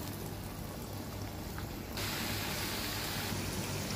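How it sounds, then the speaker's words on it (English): Jackfruit snack mixture frying in hot oil, a steady low bubbling sizzle that swells louder halfway through, with no talk. "It's ready to fry. We'll fry this."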